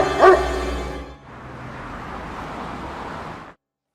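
A dog gives a single loud bark with harmonic yelping near the start of a drama scene, then broadband noise follows for a couple of seconds before cutting to silence.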